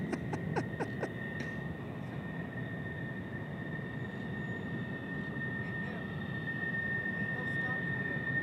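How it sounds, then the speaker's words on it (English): An F-16 fighter jet at Tucson International Airport gives a steady, broad roar that holds at an even level throughout, heard from a distance with a faint high whine above it. "Our friendly neighborhood F-16."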